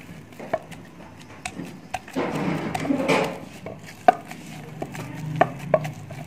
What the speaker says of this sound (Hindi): इसको अच्छी तरह से कूट कर यकजान करेंगे, इसको मैश करेंगे ऐसे करके।